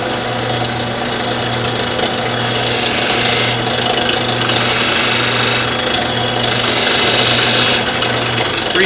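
A wood lathe turning a bottle stopper, a loud continuous mechanical rattle and hum from a loose knob, steady and close throughout with no speech.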